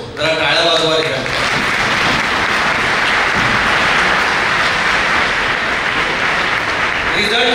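Loud, sustained applause fills a medical college white coat ceremony hall, a dense roar of clapping that swells after a short stretch of amplified speech and runs on to the end.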